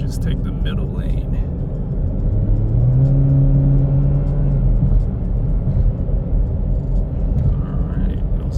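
A rented Chevy Camaro muscle car accelerates through a winding S-curve in the hills. A steady engine rumble swells into a rising rev midway, then settles back into a constant road drone.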